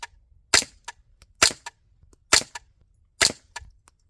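Five sharp, quiet reports from subsonic .22 rounds fired through a Huxwrx Flow titanium suppressor come at an even pace, each a brief crack followed by a faint mechanical click, with near silence between.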